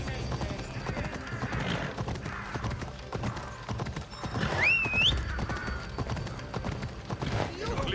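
Horse galloping in the Assassin's Creed Odyssey video game: steady rapid clip-clop hoofbeats throughout, with a brief whinny midway, under game sounds and some talk.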